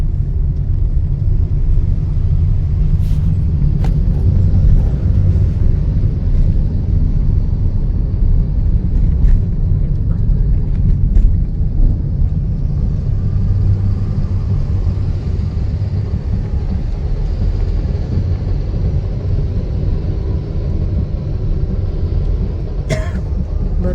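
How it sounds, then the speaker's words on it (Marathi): Inside a car stuck in a traffic jam on a mountain ghat road with roadwork underway, a steady low engine and road rumble runs throughout, with faint distant vehicle noises and a few brief knocks. "भरपूर ट्रॅफिक आहे घाटामध्ये बघा"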